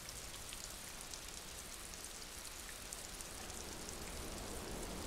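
Rain in the video game Disco Elysium, a steady, quiet hiss of drops falling on surfaces, even and unbroken throughout with no voices.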